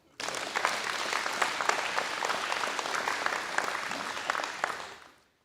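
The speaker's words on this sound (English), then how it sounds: "He needs some applause for that." Applause from a gathered crowd at an outdoor groundbreaking ceremony, a dense steady patter of many hands that starts abruptly, holds even for about five seconds, then fades out.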